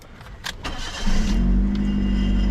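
A 2008 Perodua Myvi 1.3 EZ automatic cranks briefly and its engine catches, then settles into a steady, close idle with a low rumble and a strong hum; no one speaks.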